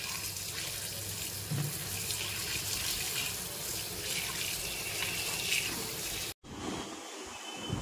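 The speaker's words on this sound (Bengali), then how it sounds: "চিঁড়ের পোলাও করবো, সেই জন্যে চিঁড়েটাকে আগে ভালো করে একটু ধুয়ে নিচ্ছি।" Flattened rice (chira) is rinsed under a running kitchen tap, a steady splashing stream of water into a sink that continues for several seconds before a brief cut, then resumes with some handling noise.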